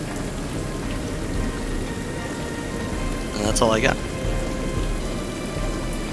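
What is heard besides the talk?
rain and wind sound effect in tabletop game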